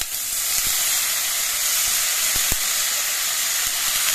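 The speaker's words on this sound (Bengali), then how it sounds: "এবার আমি এর মধ্যে মুসুরির ডালগুলো দিয়ে দিচ্ছি" Red lentils added to fried spice paste for Bengali masoor dal tarka, a steady close sizzle and hiss with a few faint clicks of stirring.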